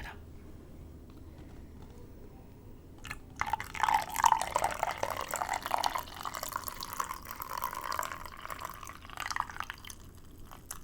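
Water pours into a cup of tea for a steady stretch in a quiet indoor room, a soft liquid trickle and splash that begins suddenly and keeps running at close range.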